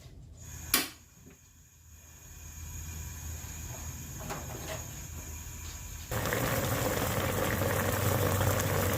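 Vinegar mixture for cooking crab boils in a pot on a stove. A single knock comes early, then a steady bubbling hiss builds and turns noticeably louder and fuller toward the end.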